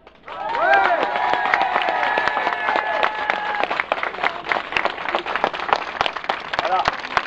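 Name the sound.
audience applauding healthcare workers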